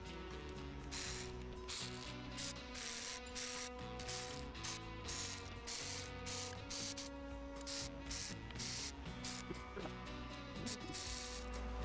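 Bolts being run down with a ratchet onto the engine cover of a Toyota Corolla 1.8L during a rebuild, a steady, continuous clicking and whirring of the mechanism that carries on for the whole stretch with no talk.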